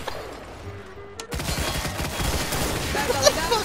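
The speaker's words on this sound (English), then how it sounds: "shoot at him, lads, quick!" Gunfire in the video game Garry's Mod during a DarkRP store raid: a quiet stretch, then a sudden loud burst of rapid shots that keeps going as sustained, overlapping fire, with a sharper crack near the end.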